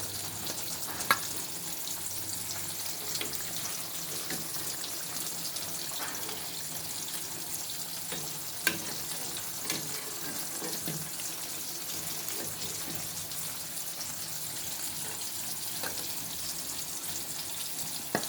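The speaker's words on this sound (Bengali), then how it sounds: "আর পটল ভাজি হইতেছে।" Pointed gourd (potol) fries in oil, giving a soft, continuous sizzle with faint scraping and occasional sharper clicks and taps, heard close up at a moderate level without any talking.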